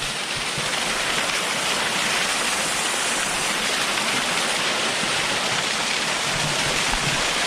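A rushing waterfall roars as a constant, dense wash of broadband noise, loud and close, with no pauses.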